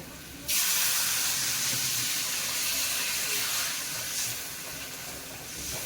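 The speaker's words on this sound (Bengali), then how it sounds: "এবারে জল দেব" Water poured into a pan of potatoes fried in spice paste for a Bengali-style shankar fish kosha, a sudden loud rushing hiss that begins after a brief pause and carries on steadily, easing slightly toward the end.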